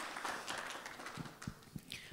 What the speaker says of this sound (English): Give a big round of applause, Dr. Nasri.